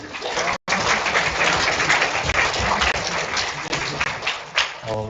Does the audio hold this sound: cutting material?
no